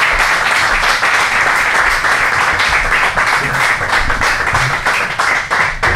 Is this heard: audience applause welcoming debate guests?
yes